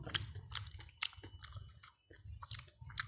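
Someone eats spicy squid salad by hand, chewing close to the mic: a quick series of crisp, crunchy bites and chews with short pauses, and no talking.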